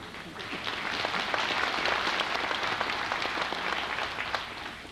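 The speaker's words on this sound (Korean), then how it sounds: "이 박수는 내게 한 게 아니라 당신께 한 거라는 걸 알아요." A crowd applauds during a speech by former South Korean president Kim Dae-jung, with dense, sustained clapping that swells and then eases slightly, heard at some distance with no talking.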